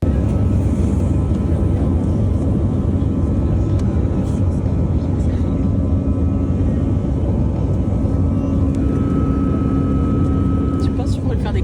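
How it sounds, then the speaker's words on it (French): Continuous loud jet airplane engine roar, steady and broadband throughout with a rising whine near the end, like a plane powering up for takeoff; faint voices murmur underneath. "Tu penses que tu pourrais le faire décoller l'avion, toi?"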